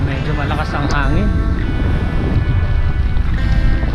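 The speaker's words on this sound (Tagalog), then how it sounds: "Medyo malakas ang hangin." Strong wind roars over the microphone on a bike ride along a bay, a constant heavy rumble with a voice talking briefly near the start.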